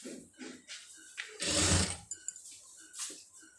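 A sewing machine stitches through fabric in a quiet room: a short whirring run of needle strokes, surrounded by soft mechanical clicks and ratcheting.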